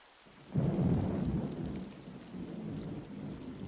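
Heavy rain pours steadily, joined by a deep rolling rumble of thunder that swells in and slowly fades beneath the downpour.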